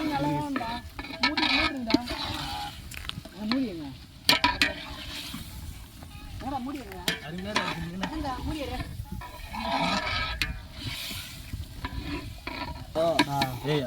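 Chicken stirred in a biryani pot, a steady scraping stir over a sizzling fry, with people talking over it throughout.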